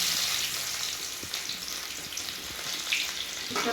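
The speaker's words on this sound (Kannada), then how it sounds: "ಸ್ವಲ್ಪ ಫ್ರೈ ಆಗಲಿ ಉಳ್ಳಾಗಡ್ಡೆ" Chopped onions fry in hot oil in a pan with cardamom, cinnamon and cloves for a green chicken gravy, giving a steady close hiss and crackle throughout, and a few faint clinks come near the end.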